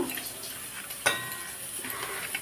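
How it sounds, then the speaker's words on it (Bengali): Chilies fry lightly in a pan, a soft continuous sizzle close by, broken once by a brief sharp metallic clink of a utensil against the pan. "লঙ্কাটাকেও এখানে হালকা করে ভেজে নিচ্ছি"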